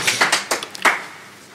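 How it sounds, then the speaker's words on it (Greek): Audience clapping at a live music session, a short burst of scattered handclaps from a small crowd, close and fairly loud, quickly thinning out and fading into quiet room tone. "Χειροκροτήστε αν θέλετε, δεν μας πειράζει."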